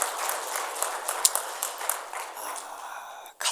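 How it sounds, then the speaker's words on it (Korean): A church congregation applauds together during a worship service, steady broadband clapping that holds for several seconds, moderately loud with a roomy wash, fading briefly near the end before a final burst. "축하와 격려의 박수 같이 드리도록 하겠습니다"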